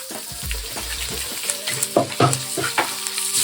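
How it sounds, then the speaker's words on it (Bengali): Jackfruit pieces fry in a pan with salt, giving a steady close sizzle broken by sharp scraping stirs and clinks of a utensil against the pan, with no talking. "এই যে ভালো করে ভাজবো যাতে সেদ্ধ হয়ে যায়।"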